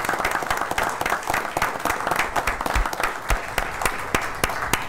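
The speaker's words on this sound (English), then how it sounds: "Let's have a round of applause." Steady audience applause for veterans at a borough council meeting, many hands clapping densely for several seconds at an even level.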